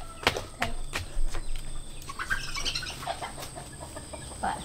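Chickens cluck and squawk close by in a run of sharp, uneven calls, with a few louder bursts over a quiet outdoor background and no talking.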